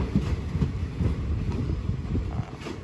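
Train 84 pulls away from Surat Thani station in Thailand, a steady rumble of rail cars with rhythmic wheel clacks on the track, close and moderately loud.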